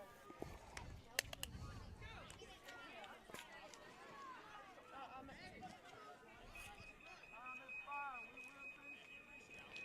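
An electronic game timer alarm at a 14U youth baseball game sounds as a steady, thin tone over the last few seconds, above crowd noise and a commentator's voice.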